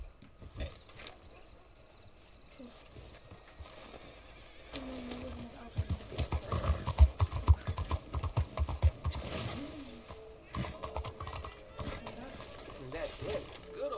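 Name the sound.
horse clip-clopping in video game Red Dead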